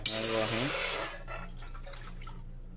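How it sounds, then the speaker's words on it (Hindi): Water pours into a tea pot set on a stove for masala chai, a steady splashing stream for about a second, followed by quieter trickles and drips. "इसके अंदर जो है ना ऐड कर लेता हूँ पानी"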